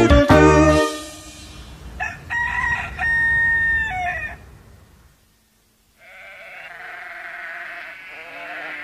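A rooster crows cock-a-doodle-doo on a farm in a children's farm song, loud opening calls followed by tonal crowing phrases, a brief silence, then another drawn-out animal call.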